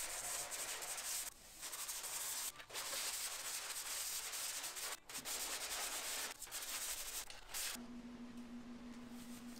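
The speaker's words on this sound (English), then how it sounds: "This fiberglass is really hard, so it does take quite a bit to kind of sand it down." Hard fiberglass being sanded on a 1992 Ford F-150 cab corner, a steady close abrasive rasp running almost throughout with a few brief pauses and a power tool hum near the end.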